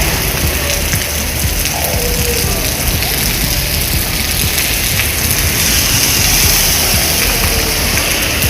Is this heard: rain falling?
yes